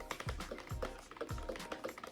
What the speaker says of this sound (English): this kind of thunk, this kind of boom-bastic sound when you type